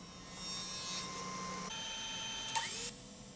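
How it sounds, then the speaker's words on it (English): A router cuts a small round-over profile along a short piece of wood trim for a lowboy-style chest of drawers, giving a steady, fairly loud high whine that shifts in pitch partway through, with a brief louder burst near the end. "here's another little piece of trim, so I'm just doing a small round over"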